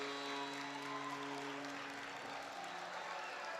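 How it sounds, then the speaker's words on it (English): A college hockey crowd in an arena applauds and cheers after a goal, a dense continuous roar of clapping and voices at a fairly distant, steady level, with tonal arena sound running underneath. "And the crowd in the Deb is on their feet."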